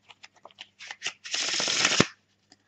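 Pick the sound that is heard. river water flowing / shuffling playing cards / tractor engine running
shuffling playing cards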